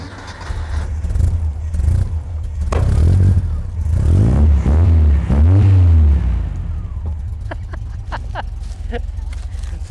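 A 1967 Volkswagen single cab bus engine fires up and revs in a shop, loud low rumbling with several throttle blips swelling and dropping before settling to idle.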